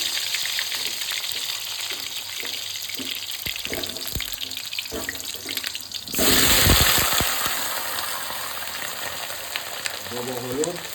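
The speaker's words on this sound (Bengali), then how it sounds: "তেল গরম হয়ে গেছে, এবার আমি পেঁয়াজ আলুগুলো দিয়ে দেবো।" Onions and potatoes dropped into hot oil, with a quiet stretch of small clinks and faint sounds before a sudden loud sizzling burst that gradually settles into steady frying.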